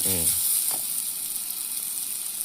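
Onion and radish sizzle in a hot pan for Tamil school-style sambar, a steady close frying hiss throughout, with a brief voice at the very start.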